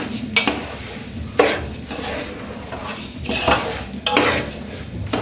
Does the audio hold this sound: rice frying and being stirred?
yes